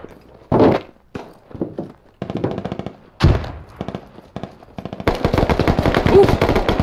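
Gunfire in the video game Squad, with bursts of automatic fire and single heavy shots mixed with thuds, some close and loud, ending in a sustained rapid burst.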